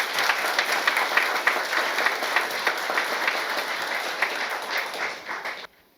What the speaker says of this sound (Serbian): Pozdravimo velikim aplauzom profesora Zorana Lakušića.